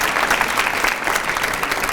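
Audience applause at a Harvest for Hunger recognition ceremony, a steady, fairly loud burst of clapping from a room of people.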